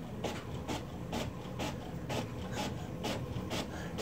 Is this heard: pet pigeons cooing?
no